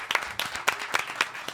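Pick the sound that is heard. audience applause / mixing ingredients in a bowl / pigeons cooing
audience applause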